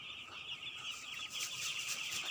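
A flock of broiler chickens clucks and chatters continuously at close range, a dense overlapping chorus of short calls with no voices.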